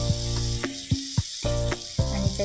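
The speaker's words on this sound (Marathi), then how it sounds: "आता याच्यामध्ये आपण 2 चमचे तिखट टाकूया" Chili powder goes into garlic fried crisp and red in hot oil, and a close, steady sizzle runs throughout with a few sharper spits and crackles.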